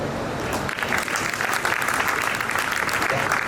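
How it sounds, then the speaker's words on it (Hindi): Audience at a Durga Puja mahotsav poetry gathering breaking into dense, sustained applause, many hands clapping together loudly and continuously throughout. "आपके लिए तालियां बजेगी"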